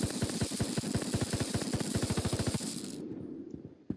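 Rapid bullet impacts striking an electrical surface in a first-person shooter game, a fast, loud string of sharp cracks at an even rhythm that stops abruptly and leaves a fading electric buzz.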